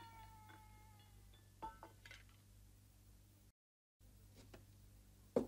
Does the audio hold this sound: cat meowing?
yes